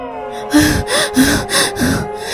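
Heavy, rapid panting: four loud breaths in a steady rhythm, close up, with a faint tonal hum underneath.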